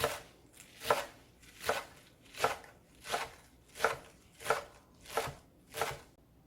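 Chives and green onions chopped with a knife on a board: eight crisp, evenly spaced cuts in a steady rhythm, close and clear with no talking.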